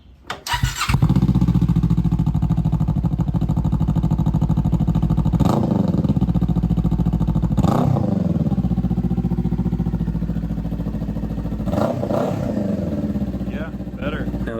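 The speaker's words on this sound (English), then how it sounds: "That's an exhaust note definitely worthy of some flybys." A 2024 Kawasaki Eliminator with a Voodoo aftermarket muffler starts with a sharp bark, then settles into a loud, steady, throaty idle punctuated by several quick revs at spaced intervals.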